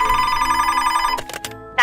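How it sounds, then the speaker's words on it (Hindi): A telephone rings with an incoming call to the police: a loud, bright electronic ring, steady at first and then breaking into short bursts before cutting off. "रात की 1 बजे पुलिस को एक कॉल आती है"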